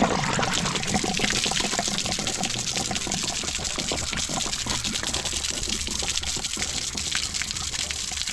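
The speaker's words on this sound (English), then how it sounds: "Is that water just going to gush out? Yeah, here it comes." Dirty water gushes out of a drained RV hot water heater in a loud, continuous splashing rush that holds steady throughout, close by and with no talk over it.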